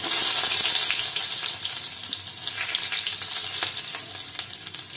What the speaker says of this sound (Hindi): ऑयल हमारा गर्म हो गया है, इसमें हम थोड़ा सा जीरा डाल देंगे